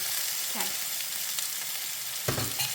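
Meat browning in a hot pan for dinner, a steady close crackling sizzle throughout with a few clinks and scrapes near the end.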